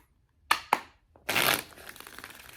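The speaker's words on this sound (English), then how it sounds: "The cards won't shuffle." Tarot cards are handled and shuffled nearby: two sharp snaps, then a short riffling burst and a few soft trailing clicks, with no speech.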